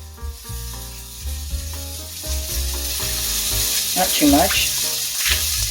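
Balsamic vinegar hisses and sizzles as it hits a hot pan coated with pork fond, a bright crackling burst rising midway under a voice, with background music throughout.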